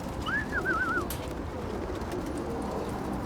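A single pigeon gives a soft rolling coo near the start, then only quiet ambient noise remains.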